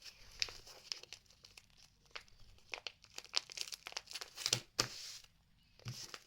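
A plastic bag holding sticky stationery crinkles and rustles up close in irregular bursts, steady handling with no talking.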